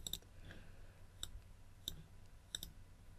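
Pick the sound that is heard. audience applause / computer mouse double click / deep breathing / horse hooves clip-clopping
computer mouse double click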